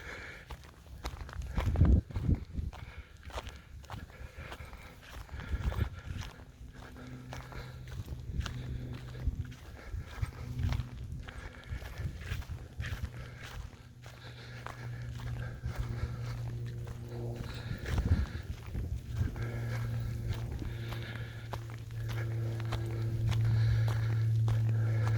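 Footsteps crunching steadily up a steep hillside track toward an old gun-defence bunker near Townsville, close and continuous, with wind or breath noise underneath.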